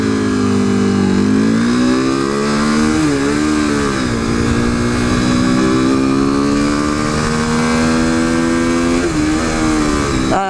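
A modded 2015 KTM RC 390 single-cylinder motorcycle, running Dunlop Alpha tires, drones loudly while being ridden, its thumping engine note rising and falling in pitch through gear changes and throttle shifts, close and continuous with no talk.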